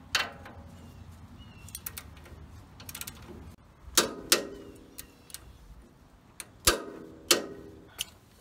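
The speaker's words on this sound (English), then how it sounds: "So now we're going to torque this to 98 pounds." Torque wrench tightening a suspension bolt on a Toyota Tundra or Sequoia during a coilover and upper control arm install, a series of sharp metallic clicks and ratcheting ticks, some spaced and others in quick bursts, close and clear.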